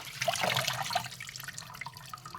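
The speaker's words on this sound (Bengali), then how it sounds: "তো আমি ভালো করে শাকগুলো ধুয়ে নিচ্ছি" Leafy greens are swished in water in a basin, making faint, continuous splashing and sloshing up close.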